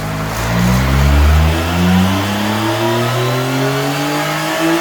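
A 2025 Yamaha YZF-R9 triple fitted with a Spark full exhaust system revs on a dyno, loud and close, its engine note climbing steadily in pitch throughout with no talk over it.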